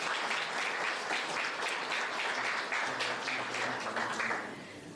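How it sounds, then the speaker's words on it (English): Crowd applause at a Human Rights Day and constitution anniversary event, steady dense clapping from a large audience, fairly faint and fading near the end. "I think that deserves a round of applause"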